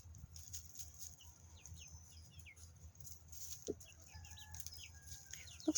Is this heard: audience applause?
no